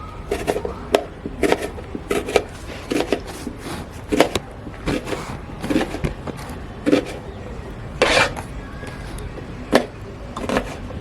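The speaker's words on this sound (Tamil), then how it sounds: "அவங்க அரிஞ்சிக்கிட்டு இருக்காங்க வெங்காயம் பிரியாணிக்கு அடிகிற மாதிரி தான் பொடிசு பொடிசாக" Onions are chopped finely with a knife for a mutton gilli biryani. The knife strikes come as a string of irregular, fairly close chopping taps, each a short sharp hit with brief pauses between bursts.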